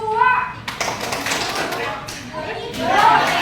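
Children clap hands in a counting clap game during an Indonesian classroom lesson, giving a burst of sharp, fairly close claps under excited kids' voices and chatter.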